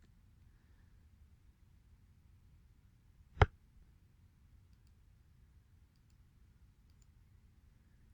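A computer mouse gives one crisp, sharp click against an otherwise near-silent, low hum.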